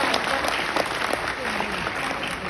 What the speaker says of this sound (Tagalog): Isang malaking malakas na palakpak to all the leaders of the city.